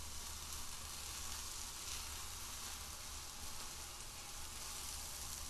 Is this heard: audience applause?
no